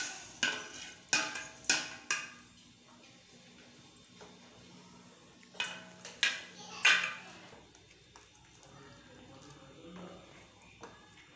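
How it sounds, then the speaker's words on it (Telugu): A spoon stirs milk in a pot on a low flame: sharp metallic clinks and scrapes come in short bursts, with quiet gaps between them. "2 మినిట్స్కి ఒకసారి కలుపుతూ ఉండాలి, లేకపోతే పాలు పొంగొచ్చేస్తాయి"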